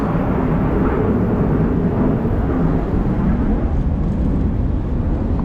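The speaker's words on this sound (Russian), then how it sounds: "Самолет взлетает." An airplane taking off near Adler, Sochi: a steady, heavy roar with deep rumble that holds unbroken throughout, close and loud.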